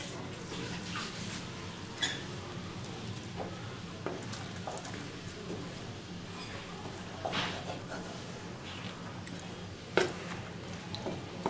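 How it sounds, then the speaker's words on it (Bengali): Water poured into a simmering jackfruit and prawn curry sizzles and splashes steadily in the pan, with a few sharper clatters standing out over the continuous frying noise. "এবার দিয়ে দিচ্ছি জলটা। যেহেতু একটু ঝোল রাখা হবে সেহেতু এখানে জলটা আমি 2 বাটি পরিমাণ দিলাম।"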